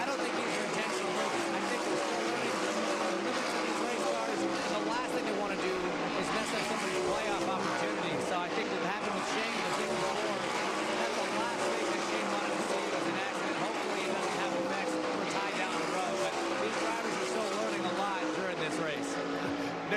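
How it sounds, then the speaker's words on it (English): NASCAR Cup Series race cars roar past on the front stretch at the Brickyard in a continuous loud wash of engine noise, with a voice talking over the din throughout. "with the cars rocketing by you on the front stretch, you are so difficult to hear"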